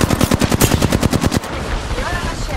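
Rapid automatic gunfire in the video game Apex Legends, a loud burst of about a dozen evenly spaced shots that stops abruptly, followed by quieter in-game ambience.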